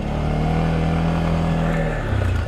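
TGB Blade 600 LT EPS 4x4 quad engine given a gentle blip of throttle, a steady close-up motor drone with a deep harmonic hum that holds level for a couple of seconds before easing slightly.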